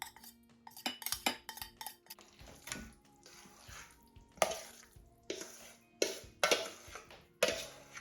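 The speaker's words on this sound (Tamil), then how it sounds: "சமைச்ச பாத்திரம் எல்லாமே கழுவிட்டேன்" Cooking pots and pans washed by hand at a kitchen sink, with intermittent clanks and scrapes of metal vessels amid splashing, running water, close and moderately quiet.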